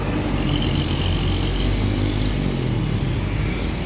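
A DAMRI bus rolls past on the road, its broad engine rumble and tyre roar holding steady and loud throughout, with no talk over it.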